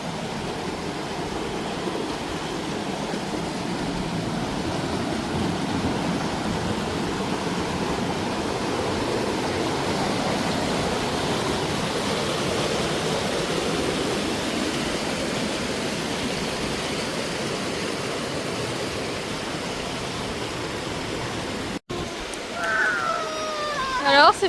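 A river rushing beside a mountain hiking trail in the Alps, a loud, steady, close broadband roar of flowing water that cuts off briefly near the end before a few faint sounds.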